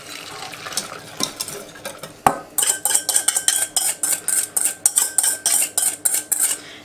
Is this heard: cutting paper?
no